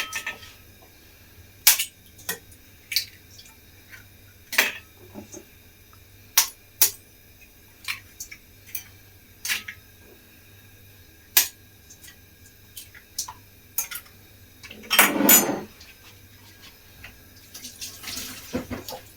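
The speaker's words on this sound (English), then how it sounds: "I'm taking 4 eggs, and I'm literally going to crack them into the KitchenAid." Four eggs cracked one by one into a KitchenAid mixer bowl, giving sharp, close taps and cracks spaced across the stretch, then a brief wet splashing rush near the end.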